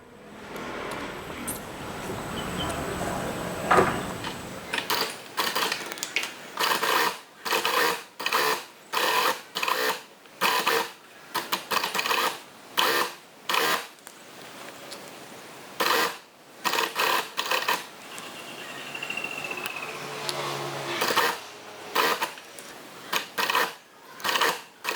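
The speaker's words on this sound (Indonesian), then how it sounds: "Oke, saya jahit lagi bagian sebelahnya." A sewing machine stitches a child's half-circle gamis dress in repeated short bursts of rapid whirring, with brief pauses between runs and some handling noise at the start.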